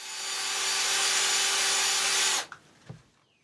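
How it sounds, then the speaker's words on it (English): A steady, loud whirring grind of a power sander with abrasive discs working against a pitted plastic headlight lens for over two seconds, then it cuts off abruptly, followed by a couple of light knocks. "safely sanding down the pitting in the lens with the first two abrasive discs"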